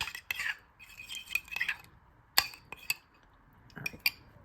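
A metal spoon clinks and scrapes against a bowl in quick, irregular bursts, close by with brief pauses between strokes.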